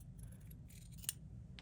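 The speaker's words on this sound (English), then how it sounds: "I'm just going to take my scissors" Scissors cut out a paper fox, giving quiet soft snips against near silence, with one sharp, distinct snip standing out midway.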